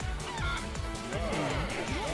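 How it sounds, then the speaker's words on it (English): An angry chicken in the video game Little King's Story clucks in short, agitated calls over a busy game soundscape at moderate loudness. "Oh, that's an angry chicken."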